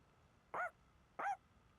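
Two short, bright barks from the dog Koro-chan in Persona 3 Reload, spaced about half a second apart, clear and isolated against a quiet background.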